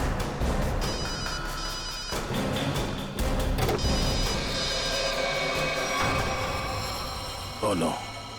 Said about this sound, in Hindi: रिंग तो बज रही।